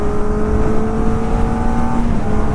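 An Aprilia RS 457 motorcycle engine holds a loud, steady droning note with a slight pitch shift near the end, close by and without voices.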